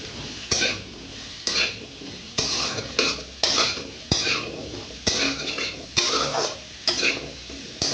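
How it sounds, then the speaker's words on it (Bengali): Turmeric and salt fried in a pan while being stirred for a fish-head murighonto, with a steady sizzle and about a dozen rhythmic scraping clanks of a spoon against the pan, evenly spaced and close up. "একটু হলদি গুঁড়ো দিলাম, একটু লবণ দিলাম, দিয়ে ভালো করে ভেজে নেব।"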